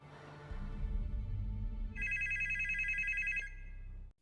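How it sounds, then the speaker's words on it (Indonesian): A telephone bell rings in a steady trilling burst for about a second and a half, loud and close, over a low rumbling background with no talking. "kembali dikejutkan dengan telepon yang berdering"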